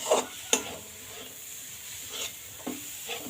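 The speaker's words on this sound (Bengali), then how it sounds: "ঘিটা দেওয়ার পরে কিন্তু আরও খুব ভালো করে ঘিটা মেশানো লাগবে" Ghee being stirred into a laddu mixture in a pan, a soft scraping and light sizzling with a few sharper clinks of the spoon, faint and close.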